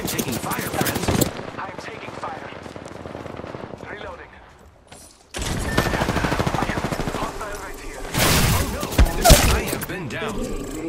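Rapid automatic gunfire in a video game shooter, loud dense bursts that come and go in clusters, pausing briefly before resuming, with a voice talking over parts of it.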